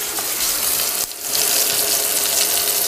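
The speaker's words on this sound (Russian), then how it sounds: "Я решила еще отбивные пожарить." Pork chops frying in a pan, a loud, steady hiss and sizzle of hot fat that briefly dips for a moment before carrying on, with no talking.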